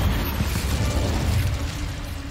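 An Incendio fire spell in Hogwarts Legacy roars as a steady, loud low rumble of fiery burst, sustained for a couple of seconds with crackling texture and no talk.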